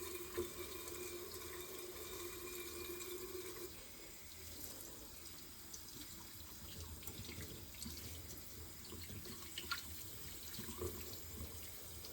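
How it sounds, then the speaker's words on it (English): Hands are washed under a running tap, the water pouring in a faint, steady hiss, shifting in tone partway through as the hands move beneath the flow. "I'm going to go ahead and wash my hands again for 21 seconds"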